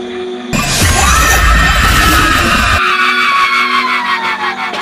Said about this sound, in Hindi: जोर से कौन चिल्लाया